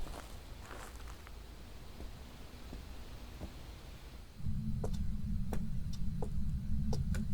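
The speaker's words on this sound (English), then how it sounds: "Do you guys hear that? Heavy footstep? Not mine." Heavy ghost footsteps in the horror game Phasmophobia, a series of irregular soft thuds over a low hum that grows louder partway through, with no talk.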